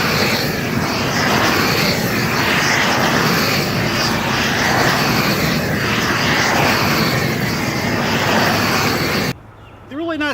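A propane flame weeder burns weeds on a garden bed, giving a loud, steady roaring hiss of burner flame and forced air that runs unbroken for about nine seconds before it cuts out briefly.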